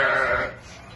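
A ram at a livestock market gives one loud, close bleat lasting about half a second, then fades into quieter crowd background.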